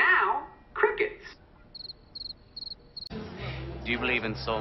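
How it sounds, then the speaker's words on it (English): Crickets chirp in a steady run of short, regular pulses in a quiet gap in the sitcom Community, preceded by talk and followed by louder voices and a low hum. "And now, crickets."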